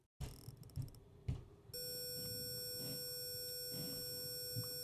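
An Arduino-generated 500 hertz tone switches on partway through and holds as a steady, buzzy electronic pitch, preceded by brief clicks and beeps, with no talking.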